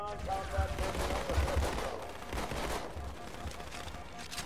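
Pistol gunfire in Halo 2 mixed into dense, noisy combat with rapid overlapping shots and explosions, fairly loud and continuous, while a voice talks faintly underneath.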